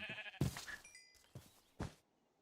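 Sheep bleating in the RLCraft Minecraft video game, hardcore mode: a couple of short nasal bleats near the start, then fainter bleat-like calls and in-game sounds, alone without talk.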